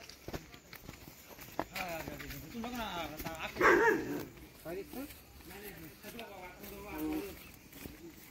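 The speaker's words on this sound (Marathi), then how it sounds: "ते दुसरं भुंकतोय ते" A dog barks a few times in the distance while people talk and walk nearby on a monsoon village outing in Mulshi, with footsteps audible under the conversation.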